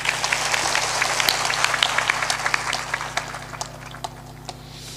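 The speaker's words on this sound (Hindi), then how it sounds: "एक बार सबके सम्मान में ताली जोरदार बजा दें।" Audience applause fills a hall at a Hindi spiritual discourse, a dense steady patter of many hands clapping that thins and loosens toward the end, with a low hum running underneath.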